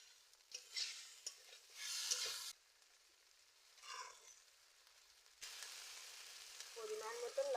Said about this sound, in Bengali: এদিকে বেলে মাছগুলো আমি ভেজে নিচ্ছি